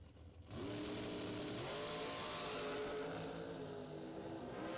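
A drag racing car at a bracket race launches and holds a loud, sustained engine roar that surges up after a brief quieter start, with no talk over it.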